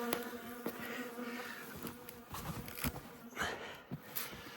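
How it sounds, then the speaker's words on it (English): Bees buzzing inside a hive box in early spring, a steady dense drone from many insects, close and moderately quiet, with no voices. "So there's quite a lot of bees in there"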